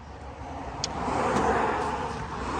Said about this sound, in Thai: ดึงเปิดสตาร์ทเครื่องให้ฟังเลย